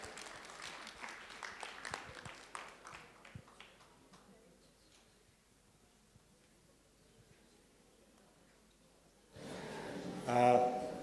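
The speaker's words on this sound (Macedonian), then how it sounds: "Аплауз ве молам" Scattered applause from a conference session audience rings out and gradually thins to a few claps, then near silence, before a louder burst of room noise at the end.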